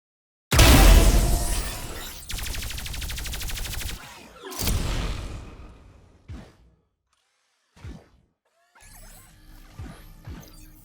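Mech kill finisher from the Protocol weapon skin in the game Valorant: a loud shattering crash and rapid mechanical rattling, then heavy impacts, a few sharp separate hits with silent gaps, and a final burst of clanking and electronic tones.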